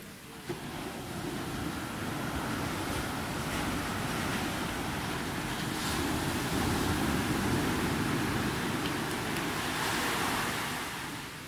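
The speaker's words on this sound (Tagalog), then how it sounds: "Pakinggan niyo yung waves. Napakatapang." Ocean waves surge and crash continuously nearby at a beach in Bauang, La Union, a loud, steady roar of surf mixed with wind buffeting the microphone.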